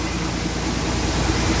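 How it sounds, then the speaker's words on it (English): Grain auger running as it feeds the main bins during harvest, a steady dense mechanical rush and rumble, continuous and alone with no talking. "So here's the auger we use for the main bins."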